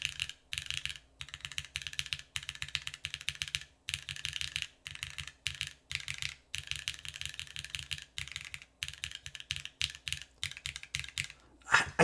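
Rapid typing on a mechanical keyboard fitted with alpha keycaps, a steady clatter of crisp key presses with brief pauses between bursts, close and clear with no talking.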